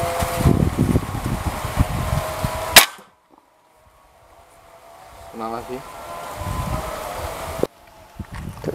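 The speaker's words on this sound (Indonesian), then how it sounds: "Untuk tembakan kedua." A PCP air rifle, a Pasopati double-tube model, fires a single sharp crack outdoors in windy rice fields, followed by a near silence, then wind noise and a second abrupt click near the end.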